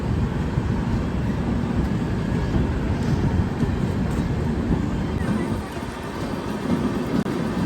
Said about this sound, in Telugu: ఆ ట్రైన్ కూడా బయలుదేరింది.